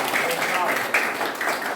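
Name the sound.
class applauding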